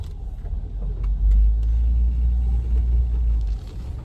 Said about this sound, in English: Back her right up here